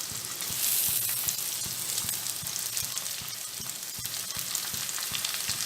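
French beans, capsicum and other vegetables stir-fry over a high gas flame for vegetable fried rice, a constant close sizzle punctuated by regular scraping strokes of a spatula.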